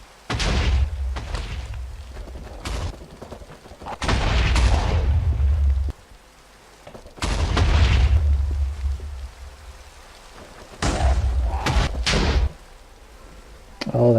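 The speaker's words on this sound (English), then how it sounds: "let's have some more fireballs" Fireball explosions in modded Minecraft 1.12.2 go off in loud, heavy booming bursts, several separated by quieter gaps, each blast rumbling for a second or two with crackling debris.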